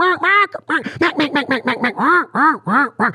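A duck call blown to imitate a hen mallard gives a loud, close run of about a dozen nasal quacks, starting with two drawn-out calls and then settling into a steady, slightly descending cadence.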